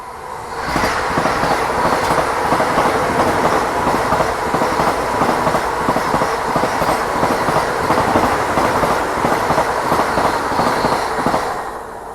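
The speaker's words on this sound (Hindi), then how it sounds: "और यहाँ पे अपनी ट्रेन पहुँच रही है आनंद जंक्शन रेलवे स्टेशन" A Mumbai-Ahmedabad double-decker express train runs steadily at speed, its wagons rumbling with a continuous rolling roar and faint rhythmic clickety-clack of wheels on rail joints, loud and close throughout with no talking.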